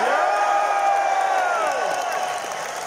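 A concert audience at the Camden Roundhouse applauds and cheers for the band, a dense, sustained wash of clapping and shouting that fades slightly toward the end.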